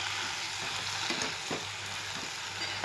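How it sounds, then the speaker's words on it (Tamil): Chopped tomatoes sizzle in a hot pan for a Tamil tomato-greens soup, a steady frying hiss broken by the periodic scrape and clatter of a spoon stirring the mixture, with no one talking. "தக்காளி நல்லா வதக்கிட்டு செய்யுங்க"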